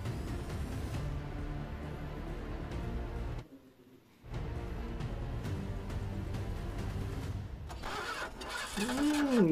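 Engine starting in a fight scene from the action film Salaar, a mid-pitched engine cranking and running with a brief drop to near silence partway, then rising again under musical tones near the end.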